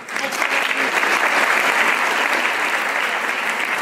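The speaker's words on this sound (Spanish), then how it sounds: "Un aplauso." Sustained audience applause fills the whole stretch at a steady, loud level, a dense wash of clapping from a crowd at a talk by a rabbi, with no speech over it.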